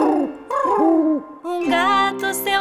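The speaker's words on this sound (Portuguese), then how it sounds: "A coruja à noite faz." A series of close, wavering owl hoots at night, rising and falling in pitch, followed by a more sustained hooting call, in a Portuguese children's song.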